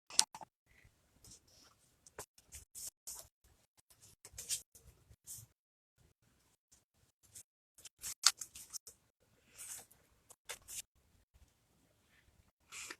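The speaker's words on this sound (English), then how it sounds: "Might as well cut some of these apart." Scissors snipping apart paper tags in a quiet room, a series of short, close, crisp cuts in irregular clusters with pauses between them.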